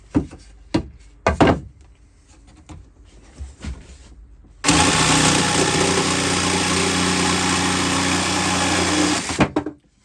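A power tool cuts free salvaged wood for a boat galley. A few knocks and handling sounds come first, then a loud, steady motor whine runs close for about five seconds before stopping abruptly.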